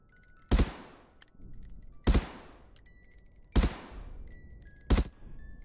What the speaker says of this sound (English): Practice moving your aim down every shot to mimic encountering an enemy while moving around the map.